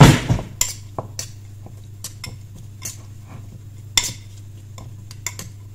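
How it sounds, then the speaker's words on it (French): Metal utensils clink and scrape against a pot or dish while food is mixed, a series of sharp irregular taps over a low steady hum, close and fairly loud, no talking. "on mélange tout simplement et on rectifie l'assaisonnement"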